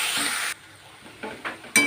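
Water spinach greens with garlic stirred in a hot pan, a brief burst of sizzling and frying hiss followed by a quiet gap, then a few short scraping stirs against the pan, close and fairly loud.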